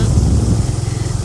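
Loud, steady motorcycle engine rumble heard while riding along a road outdoors, with wind buffeting mixed into the continuous low drone for the whole moment.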